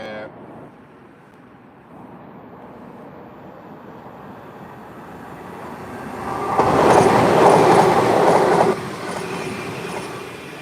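A diesel-hauled passenger train with carriages rolls along the rails near a bridge, building from a distant rumble to a loud close pass with wheel squeal and clatter before easing off.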